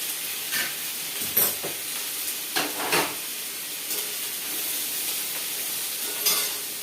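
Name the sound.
frying snake gourd with lentils in a pan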